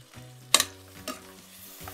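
Onions, tomatoes and green chillies sautéing in a pan, with a couple of sharp stirring scrapes and soft sizzling underneath, close and fairly quiet.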